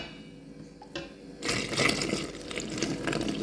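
Water pours into a mixing bowl with yeast and dry ingredients for cinnabon dough: a brief wet splashing rush that begins after a quiet lead-in and continues steadily to the end, close and moderately loud.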